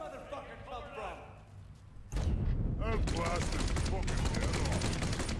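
Rapid bursts of M16 rifle fire in the Mafia 3 video game, loud and near, cutting in abruptly partway through and continuing as dense crackling volleys while someone talks over them.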